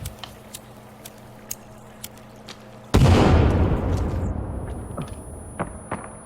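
A loud explosion erupts in the survival video game The Forest, a sudden blast followed by a long rumbling decay, preceded by quieter scattered clicks and thumps.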